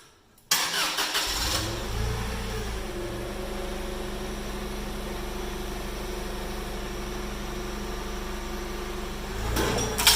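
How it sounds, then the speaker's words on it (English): A forklift engine cranks and catches about half a second in, then settles into a steady, loud idle that runs for roughly nine seconds before a slight rise at the end, with no talking. "will start the forklift and raise it up"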